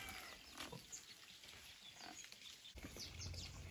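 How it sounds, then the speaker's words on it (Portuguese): Female Cape Barren goose (Cereopsis) giving low, pig-like grunting snorts, several rough calls spread through a noisy outdoor farm setting at moderate distance. "A fêmea, ela ronca que nem porco."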